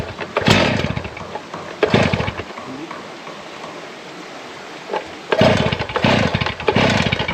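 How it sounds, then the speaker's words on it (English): A power saw cuts stone in loud, gritty bursts close by, first in several short passes, then a quieter lull, then sustained cutting again. "So we're gonna finish cutting the stone here."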